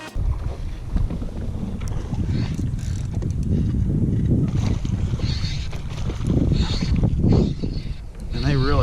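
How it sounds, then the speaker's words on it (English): Wind blowing across a kayak on the water during winter low-tide fishing in Florida, with steady rough gusts buffeting the microphone and a voice speaking briefly. "Got a little bit of wind."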